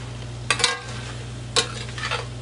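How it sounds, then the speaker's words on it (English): Ground lamb with peas, carrots and garlic being stirred in a pan, with two short bursts of scraping and clatter over a steady low kitchen hum. "Give that a good stir."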